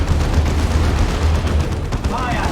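Tarantula Sentry Gun firing in Dawn of War 2, dense rumbling rapid gunfire with booming impacts, mixed under a battle din.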